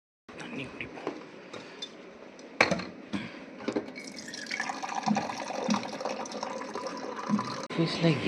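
Drinking water pours into a container at an Amazon office in Chennai, a gurgling, filling trickle that rises gradually over several seconds, close and moderately quiet, with a few clinks and some talk.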